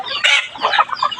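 A rooster gives a quick series of short, raspy clucks up close, three or four choppy bursts packed into about a second.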